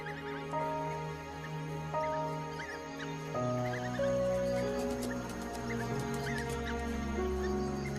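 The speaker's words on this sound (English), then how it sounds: "The pups make distinct chirping sounds and lick the mouths of the adults." High, squeaky chirps repeat in quick bursts from African wild dog pups at their den, over a bed of music.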